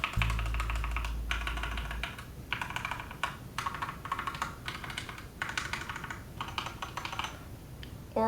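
An SK64 mechanical keyboard with Gateron optical brown tactile switches is typed on nearby in steady bursts of rapid keystrokes, separated by brief pauses.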